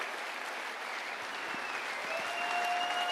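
Dense, steady audience applause fills a conference stage at the 2017 Star Citizen CitizenCon event, holding constant from start to finish with no speech on top.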